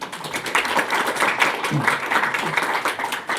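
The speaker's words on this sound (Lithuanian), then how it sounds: "Paplokite, Gintautai." Audience applause welcoming a historian at a Vilnius history book presentation: brisk clapping from a seated crowd, close and lively, with individual claps audible, lasting a few seconds.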